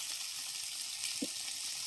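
Fish shallow-frying in oil on an outdoor wood-fired chulha, a constant dense sizzle close by with one brief knock partway through.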